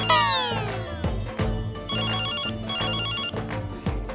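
A mobile phone rings loudly with a melodic electronic ringtone, repeating tonal phrases and a sweeping intro, continuous and close with no speech.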